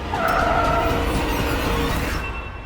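A car brakes to a stop, giving a loud, sustained rumbling screech that holds steady and then tapers off at the end, with no voices over it.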